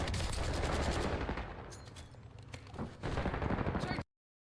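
Gunfire in Warzone Rebirth, with steady crackling bursts of automatic shots that thin out midway and then resume before cutting off abruptly.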